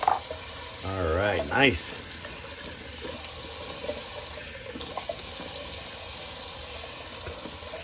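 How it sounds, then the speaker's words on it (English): A tap runs steadily for a cold water rinse while shaving, a continuous near hiss of water into a sink lasting throughout, with someone speaking briefly over it near the start. "Let's do a little cold water rinse."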